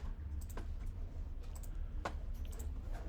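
Keys pressed on a graphing calculator keypad while entering x squared: a few sparse, soft clicks spaced irregularly over a low steady room hum, close by, with no talking.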